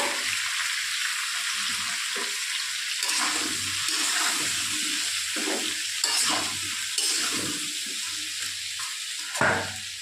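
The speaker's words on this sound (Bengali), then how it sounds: "এবার পটলটাকে আমি ঢাকা দিয়ে ভেজে নেব।" Pointed gourd (potol) fries in hot oil with salt and turmeric, making a loud, continuous sizzle with bursts of crackling and stirring scrapes, close up and with no voices.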